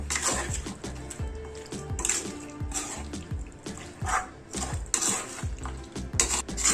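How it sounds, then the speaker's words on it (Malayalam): Village-style chicken curry with turmeric and salt is stirred in a pan, with rhythmic scraping and knocking strokes over a low sizzle, close and moderately loud, and a dog seems to bark now and then in the background. "ഇത് വീണ്ടും നല്ലപോലെ ഇളക്കി കൊണ്ട് കൊടുക്കാം."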